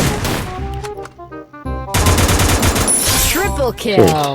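Gunfire in a mobile shooter game rings out in sharp bursts and rapid volleys, layered with game music and effects, loud and close throughout.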